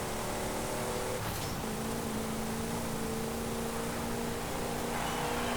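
Plymouth Barracuda engine in a Forza Horizon 5 race, a steady loud drone with a held tone, dense and constant throughout with no voices.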